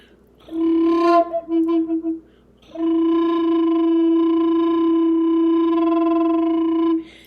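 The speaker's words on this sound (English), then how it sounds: "you do a lot of the quivering sound you do in your throat" A breathy Native American flute plays a short wavering phrase, then holds one long steady tone with a slight throat-made tremble, close and clear.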